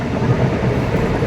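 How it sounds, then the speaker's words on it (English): A Sant Cugat train rumbles past close by, a loud continuous low roar with faint rhythmic clatter. "that's the Sant Cugat train."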